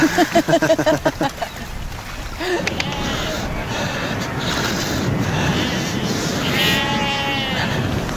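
A large flock of about 2000 sheep bleats outdoors near water, with several sharp, pulsing bleats up close at the start, then a windy, busy wash of more distant bleating under faint voices.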